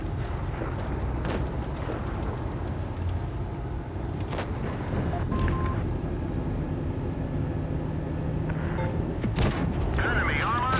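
Tank cannon fire booms out in the World of Tanks Blitz game over a dense rumbling battle backdrop, with a few sharp shot impacts standing out while someone talks throughout.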